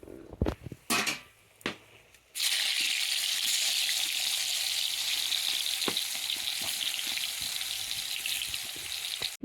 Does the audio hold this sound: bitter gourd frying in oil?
yes